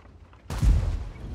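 A single tank cannon shot in World of Tanks, a sudden loud boom that rolls off into a short rumbling tail after a brief quiet lead-in.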